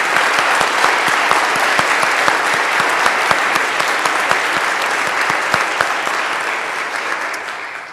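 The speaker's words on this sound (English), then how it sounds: "give them a big hand of applause for Erica and Nick and Elizabeth and Phil" Church congregation applause during a 2015 Episcopal service, loud and dense clapping from a large room of people, sustained evenly and slowly fading at the end.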